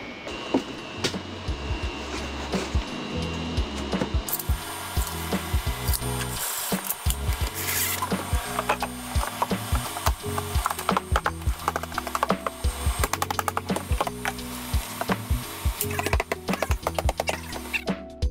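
Screws being driven and tile backer board tapped flat onto a wall make busy, close mechanical rattling with repeated sharp knocks and clatters throughout, mixed with steady background noise and no talk.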